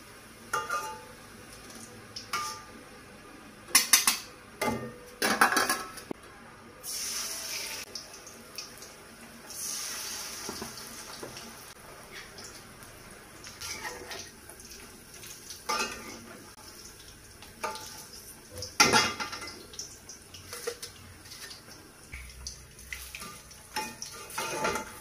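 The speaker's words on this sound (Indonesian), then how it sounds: "sekarang aku mau goreng mendoanya dulu sampai selesai nih ya bun" Battered mendoan tempeh fries in a pan in a home kitchen during a busy morning routine, a low sizzle under frequent clinks and scrapes of utensils and cookware, with running water in places and no speech.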